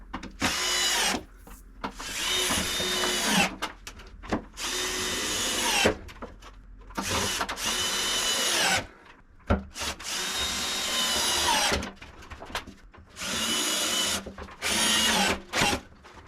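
Power drill driving screws into a wall for a wall cabinet install, close and loud, in repeated bursts of a few seconds each with short pauses between them, no talking.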